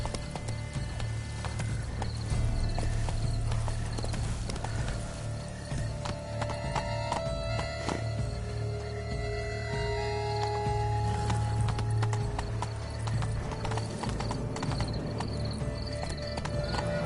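Horse hooves galloping in The Witcher 3: Wild Hunt, Blood and Wine expansion, a steady rhythmic clatter under game music and ambience, with a brief whinny.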